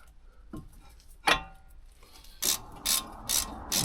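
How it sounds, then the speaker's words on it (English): Brake caliper on a Mini Cooper S R53 being tightened with a 7mm Allen key: a few scattered clicks, then four crisp, evenly spaced bursts of ratcheting at close range, with no talking. "And now I tighten the caliper using the 7mm Allen key."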